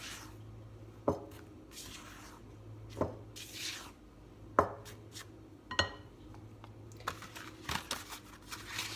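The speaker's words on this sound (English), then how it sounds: "Just gonna take my spatula and kind of stir it up." Spatula stirring biscuit mixture of flour and butter in a bowl: soft repeated scraping and tapping strokes, faint and close, with irregular knocks against the bowl.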